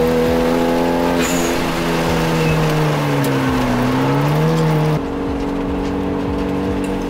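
A Genesis car lapping a race track, its engine holding a loud steady drone with harmonic pitch sweeps through a corner, then shifting abruptly to a new gear tone and continuing close and sustained, with no voices.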